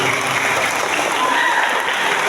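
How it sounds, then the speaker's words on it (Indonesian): Applause from an audience honouring three judges at the results announcement of a FLS3N school arts competition in Banyuwangi, a steady, dense wash of clapping lasting a couple of seconds with some crowd murmur mixed in. "Tepuk tangan untuk ketiga juri."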